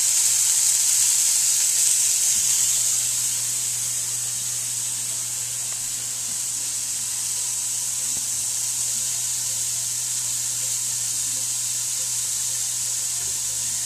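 Chicken and asparagus sizzle in a hot pan with a loud, continuous frying hiss that eases slightly after the first few seconds and then holds steady, close up with no voices.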